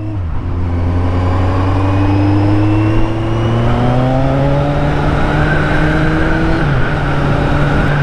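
A 2016 Kawasaki Z1000SX motorcycle accelerates on the road, its engine note climbing steadily in pitch through a long pull, loud and continuous with a gear change near the end.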